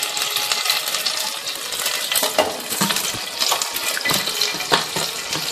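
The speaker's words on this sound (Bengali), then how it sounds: "চিংড়ি মাছগুলো তুলে নিয়েছি, এবার ওই কড়াতে একই তেলে আরেকটু সরষের তেল আমি দিয়ে দিচ্ছি" Mustard oil poured into a hot kadai after prawns were fried in it, a steady close liquid rush with light metallic clinks and sizzle throughout, no talking.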